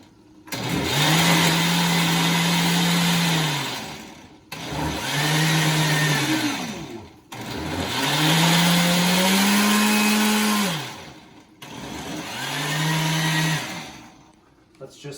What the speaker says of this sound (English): not be right by the blender when it goes on